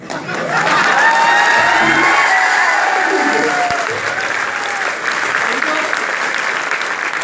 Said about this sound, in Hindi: आपकी तालियां देख के मैं समझ गया हूं कि मेहंदियां लग चुकी है